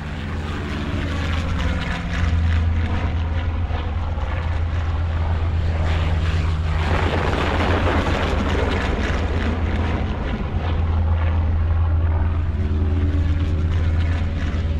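Propeller aircraft from both sides in air combat during the Spanish Civil War Battle of Teruel, heard as a loud, continuous low engine drone with wind roar that swells and holds steady throughout, with no voices.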